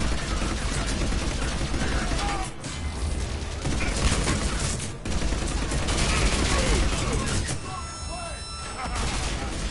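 Gunfire firefight aboard a ship in the video game Mass Effect 3, with dense, continuous rapid shots and blasts throughout, briefly dipping twice, with voices talking over the din.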